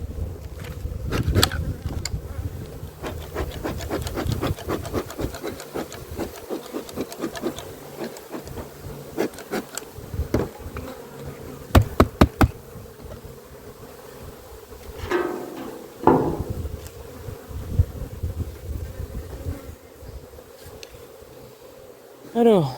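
Honeybee colony in an opened hive, a low steady buzzing hum underlying repeated clicks and knocks of handling hive parts, with some louder thumps and brief rustles throughout.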